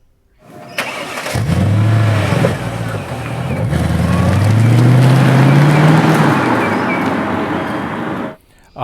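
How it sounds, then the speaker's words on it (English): Mercedes-Benz SL55 AMG engine starting and revving close by, a crank and catch followed by rising, swelling revs that hold loud for several seconds before cutting off abruptly. "One of the most highly regarded AMG engines of all time, and as I will demonstrate, it sounds absolutely beautiful."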